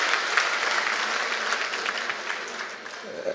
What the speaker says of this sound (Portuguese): I would like you to give yourself a round of applause.